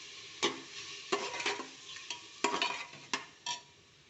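A spoon stirs grated beetroot through cooked rice in a hot pan, giving scraping, clattering strokes at irregular intervals over a soft background sizzle, with no talking.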